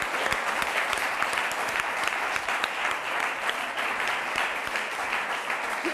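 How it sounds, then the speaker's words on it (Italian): Students in a classroom or lecture hall applaud a professor, a dense, steady round of clapping from many hands that fills the whole stretch at even loudness with no voices on top. "a questi va questo applauso da parte degli studenti."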